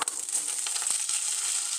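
Chickpeas go into hot oil with ajwain in a pan and sizzle, a bright crackling hiss that starts with a burst and settles into a steady fry, with no talking.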